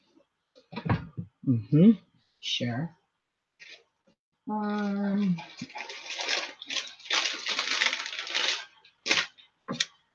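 A paintbrush swished and rinsed in a water pot during gel plate printing, several bursts of sloshing and rattling close by, broken up by short spoken remarks.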